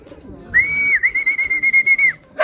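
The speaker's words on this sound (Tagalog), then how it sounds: "Ito na si Brown mga kalapatids" A racing pigeon lands back at its loft, a drawn-out whistling tone followed by a rapid series of short fluttering pulses, close and fairly clear.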